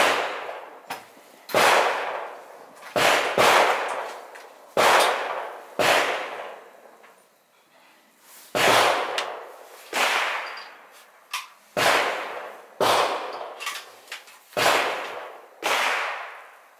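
A Serbu BFG-50A rifle fires over a dozen loud, sharp reports at a distant target, each crack followed by a fading echoing tail, spaced about a second or more apart with quiet gaps between them.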